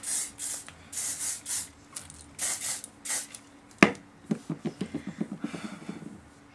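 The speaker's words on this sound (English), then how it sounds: "the last thing you want to do is hairspray everything down just to make sure it stays over time." Hairspray hisses onto styled wavy curly hair in a run of short aerosol bursts, about eight close, fairly quiet spurts, followed by a sharp click and a string of small soft taps and rustles.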